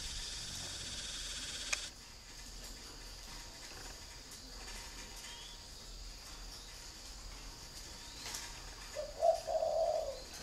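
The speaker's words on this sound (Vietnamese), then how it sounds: "những chú chim khách nó gáy gù rất là thổ đúng không?" Spotted doves kept as cage birds give a faint, low cooing call near the end, following a hiss of insect-like chirring and quiet outdoor ambience.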